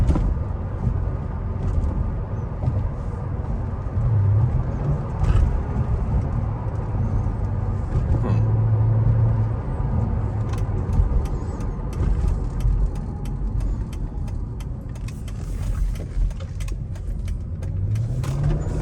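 A tuned 2006 Mercedes SL500 with a RENNtech tune and Neomax coilover conversion accelerates hard, its engine a continuous rumbling drone with a climbing note near the end, heard from inside the car.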